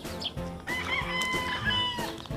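Chickens cluck steadily nearby while a rooster crows loudly over them, farmyard calls overlapping throughout, with ducks nearby.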